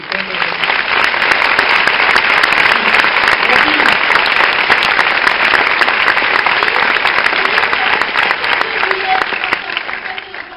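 Steady, loud applause from a theater audience at a French film premiere, many hands clapping continuously for about ten seconds and tapering slightly at the end.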